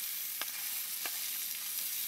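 Bacon fries in a pan at a rainy campsite, a steady close hiss of sizzling fat broken by a couple of faint clinks of a utensil, with no voices.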